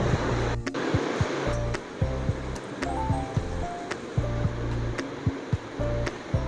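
Soaked pea lentil fritters (bora) frying in hot oil in a home kitchen, a steady broadband sizzle running throughout with small pops and clinks of utensils scattered on top.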